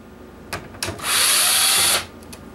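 A power screwdriver whirs steadily for about a second while backing screws out of a PlayStation 3 CECHA01 motherboard, preceded by a couple of short clicks and taps of handling.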